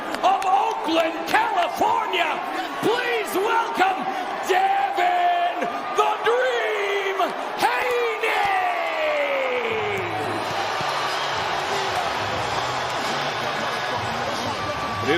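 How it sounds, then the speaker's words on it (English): A sold-out boxing arena crowd roars for Haney versus Lomachenko, with whoops, yells and a constant wash of cheering, punctuated by sharp thuds and bangs, loud and enveloping, while an announcer's voice talks over the din. "sold-out crowd is on fire. It is buzzing in here for Haney Loma"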